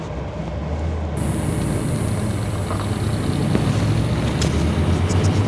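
A 1980 Chevrolet Silverado K30 4x4 crew cab with a four-speed pulls away, its engine droning low and steady with road and wind rumble heard from inside the cab.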